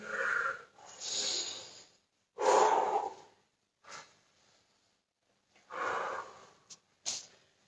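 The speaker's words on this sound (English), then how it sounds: "Breathing." Heavy, audible breaths during a yoga and strength-conditioning session, several loud inhale-exhale bursts separated by short pauses, close and alone with no talk.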